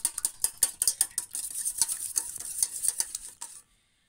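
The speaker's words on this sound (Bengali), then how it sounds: "এবার আমি ডিম দুটো ভালো করে ফেটিয়ে নেবো" Two eggs are whisked in a bowl for cupcake batter, a rapid run of sharp clinking utensil strikes against the bowl that goes quiet abruptly near the end.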